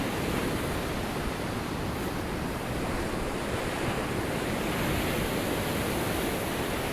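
Sea waves at high tide on Blackpool seafront, a steady dense roar of surf washing in, loud and continuous with no breaks and no voices.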